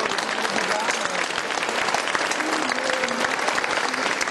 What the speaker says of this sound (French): elles méritent vraiment des applaudissements très chaleureux de votre part